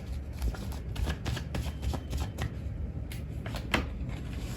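Tarot cards shuffled by hand at close range, a quiet run of quick riffling bursts over a low background hum, with no talking.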